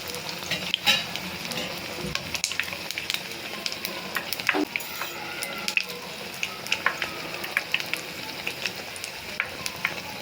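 Pineapple jalebi frying in hot oil, a steady crackling sizzle with scattered sharp pops and bubbling throughout, close and continuous with no voices.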